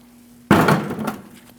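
A metal brake caliper bracket from a 2003-2008 Subaru Forester is set down with a single loud, close clank that rings briefly and fades over about a second.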